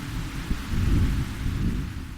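Heavy rain pours down in a steady wash while low rolling thunder rumbles close by, swelling mid-way before easing, with no voices.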